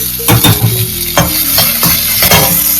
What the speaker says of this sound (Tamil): கொஞ்சம் பூண்டு, வெங்காயம், தக்காளி நல்லா பொரிச்சு